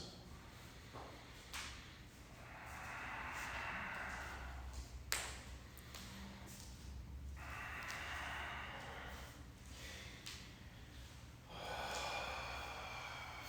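Slow, deep breaths through the nose come from a person holding a yoga shoulder stand, with long soft inhales and exhales repeating at an even pace, close and faint.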